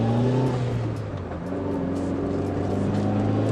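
Mitsubishi Lancer Evolution 9 engine heard from inside while driving, a steady close drone with a shift in pitch early on, then a constant hum with faint turbo whine over it.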